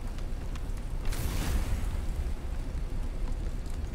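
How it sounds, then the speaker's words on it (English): Rain falls steadily in the video game Subnautica Below Zero, a dense, even hiss that stays moderately quiet throughout, with a brief rise in intensity partway through. "Why did it have to start raining right as I get here?"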